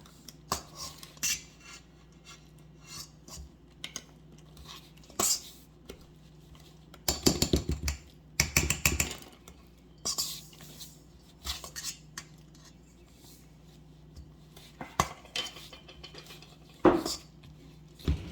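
Metal utensil scraping and clinking in a bowl while cold water is cut into pie crust dough, with irregular taps and clusters of rapid scrapes, fairly close and moderate in volume with no talking.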